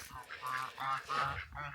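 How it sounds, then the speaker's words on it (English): Ducks at a pond give a few faint nasal honks and quacks in quick succession, soft and somewhat distant, with no other sounds around them. "there's the ducks there"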